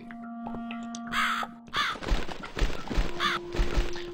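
A crow caws in the horror game The Cat Lady, several harsh cries spaced out over low ambient drones, thuds and rustling noises, fairly close, with no speech.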